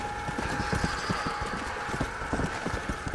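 Horse hooves clip-clop at a steady trotting rhythm in the Red Dead Redemption video game, close and continuous over a low ambient background.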